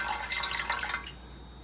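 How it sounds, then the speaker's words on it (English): Coffee-stained water poured from a container into a pan used for coffee dyeing paper, a brief trickling splash that fades after about a second, close and moderately quiet with no talking. "I'm just going to pour about half of this in here."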